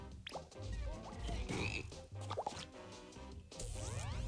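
A frog croaking in the video game BattleBlock Theater, with repeated close croaks and plopping, watery blips mixed with cartoonish game effects and chirps, moderately loud, with no talk.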